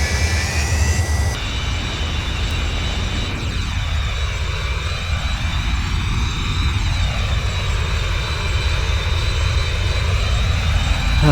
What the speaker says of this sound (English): This is going to be a long and quiet video, apart from the engines.